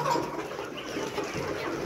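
Layer hens cluck at close range in a poultry shed, a busy overlapping chorus of short clucks with no pause.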